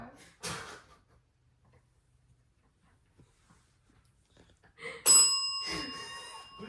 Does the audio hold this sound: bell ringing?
yes